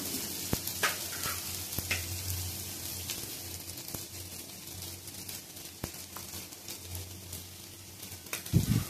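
Crushed peanuts tipped into a hot, sizzling pan and stirred, a steady frying hiss with scattered scraping clicks from the spoon and a louder clatter near the end.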